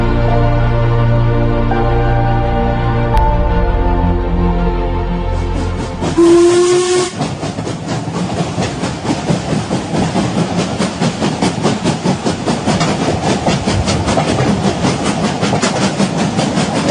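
A steam train gives a long, loud whistle for about six seconds, then hisses and chuffs in a steady, rapid rhythm as it runs, close and with no voices.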